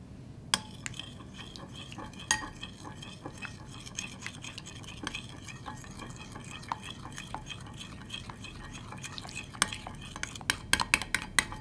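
Lotion and scents are stirred into slime with a utensil, producing scattered scraping clinks and taps against a container over a soft, continuous mixing bed, close-up and without talk.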